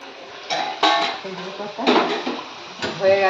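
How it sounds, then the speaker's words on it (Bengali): Metal lid set onto a cooking pot, with several close clanks and rattles of cookware, one sharper knock near the start and a few lighter taps after. "তাহলে আমি ঢাকা দিয়ে দিচ্ছি"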